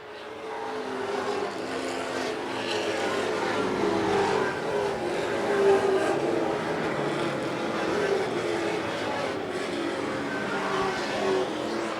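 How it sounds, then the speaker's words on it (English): Late model stock race cars running on a track, a steady, distant roar of engines that swells and holds throughout, with a voice talking over it. "Ryan Ripley will jump to the outside now and take a turn on that 15 car"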